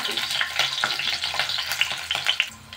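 Cumin seeds, fenugreek, and green and dried red chillies fry in hot oil while a spoon stirs them, giving a steady close sizzle with scraping clicks and light rattling throughout.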